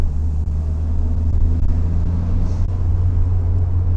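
A classic Renault R8 TS sports car, about 55 years old, drives along a road with a steady low engine rumble heard from inside the cabin, constant and fairly loud throughout.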